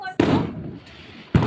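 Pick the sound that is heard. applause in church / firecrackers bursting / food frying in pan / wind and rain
firecrackers bursting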